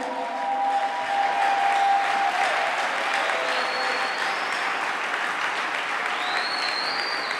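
Church congregation applauding to acclaim Jesus, a dense, sustained wash of clapping from a large crowd that swells early and holds steady, with faint voices and a few higher cheers mixed in.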